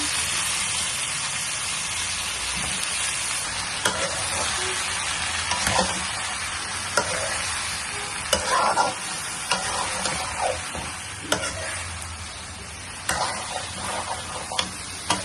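Cumin seeds sizzling in hot oil as they go into a curry in a kadai, a soft steady hiss with scattered clicks and stirring taps, fairly quiet and free of talk.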